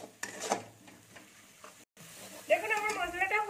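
Spice paste for a Bengali puishak and mustard-poppy seed dish sizzles and is stirred in a pan, faint scraping giving way to a louder, steady frying hiss near the end, with a voice talking over it.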